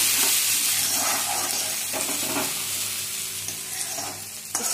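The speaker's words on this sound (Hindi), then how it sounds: "और इसमें गर्म होने पर डाल देंगे प्याज और थोड़े से मटर" Onion and peas fry in hot oil in a kadhai with a loud, steady sizzle that runs throughout. Occasional stirring scrapes sit close by.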